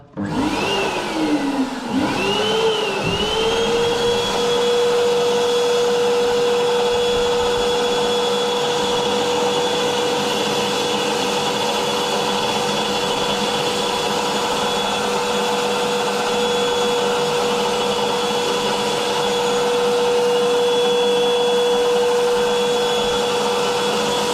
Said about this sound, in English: This is the case of plugging it into the hoover,